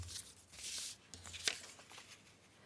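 Scissors cutting a paper template shape for a mini patchwork envelope, giving short, close crisp snips and rustles of paper with a sharp snap near the middle, quiet and with no talking.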